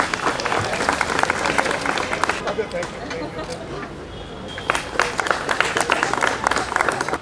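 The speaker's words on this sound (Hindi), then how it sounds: "तालियों में कोई कमी नहीं रहनी चाहिए" An audience at an awards ceremony in Delhi breaks into loud, sustained applause. Dense clapping from a crowd fills the space, dipping briefly midway and then swelling again.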